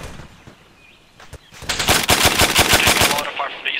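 .50 caliber machine gun fire in ArmA 3, starting after a few scattered distant shots as a loud, rapid burst of about a dozen heavy rounds in even rhythm, with faint bird-like chirps in the background.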